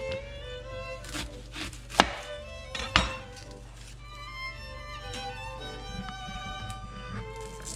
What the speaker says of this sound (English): we're gonna start chopping all our ingredients for our salad